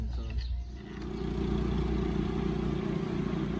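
A motorcycle engine idles steadily nearby, a continuous low rumble that swells slightly after the first second and then holds even.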